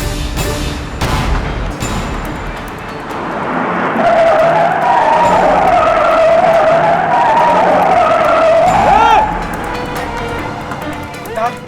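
A car skids hard through a quick U-turn, a loud sustained tire squeal rising over several seconds alongside engine noise, with voices talking before and after.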